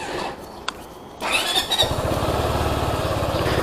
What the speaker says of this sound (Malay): Okay, so jom kita test ride motor ni.